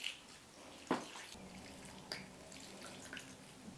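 Fertilizer-mixed water is poured over a potted Hoya plant, giving a faint trickle with a few soft drips and splashes, close and quiet, with no talk.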